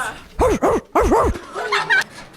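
A person's voice imitates a dog, giving four quick barking woofs in two pairs, close and loud, followed by a brief higher vocal sound.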